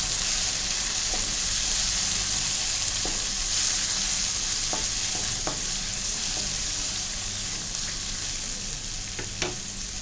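Tomatoes cook in a pan of browned ingredients for an Indian egg curry, giving an even, continuous sizzle with a few light stirring clicks scattered through, close up and with no voices.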